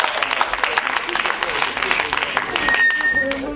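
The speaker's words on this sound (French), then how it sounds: "on applaudit pour le grand frère" Crowd applause for an older brother at a live comedy show, a dense steady patter of many hands clapping throughout, with a brief tone near the end.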